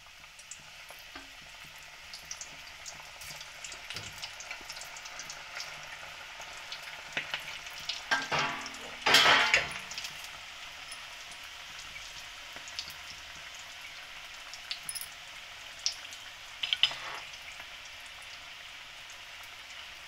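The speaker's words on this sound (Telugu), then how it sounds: "చూడండి, ఇది ఫ్రై అవుతుంది." Food deep frying in hot oil makes a continuous crackling sizzle, with a louder bubbling burst around the middle and occasional soft clinks.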